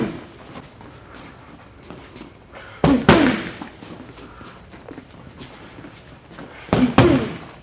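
Strikes land on pads during a beginner yellow-belt Krav Maga drill class: two sharp, loud impact bursts, each a quick cluster of hits, stand out against a low hum of room noise.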